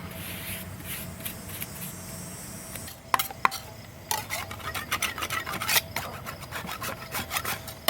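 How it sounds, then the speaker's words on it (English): Rough scraping and rasping against truck rims as Plasti Dip and clear coat are worked off a Chevy Silverado wheel, starting faint then turning into close, irregular bursts of scratching strokes after a few sharp clicks. "just scrape all this clear coat off of there because you want something for that Plasti Dip to stick to"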